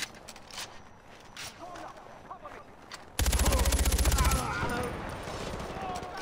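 Gunfire from a powerful gun in the video game Far Cry 4: a loud, rapid burst of shots around the middle, set against game ambience, with a voice talking faintly in the background.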